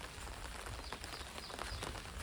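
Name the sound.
rain falling, slowly getting heavier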